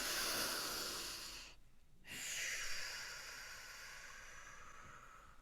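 A person breathing during a guided face and voice exercise: a long audible breath, a brief pause, then another slow airy exhale, close and quiet with no talking.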